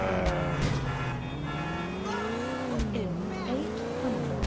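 Car engine in GTA IV: The Ballad of Gay Tony, revving and shifting continuously with wavering pitch, loud and close, with faint tire noise and a few sharp knocks.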